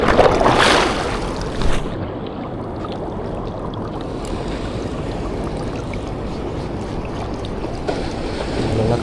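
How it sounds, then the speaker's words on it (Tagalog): Waves wash onto the shore at high tide during shore-casting fishing, with a steady near roar of surf and wind, a louder splash at the start, and no voices. "Lalaki pa yung alon."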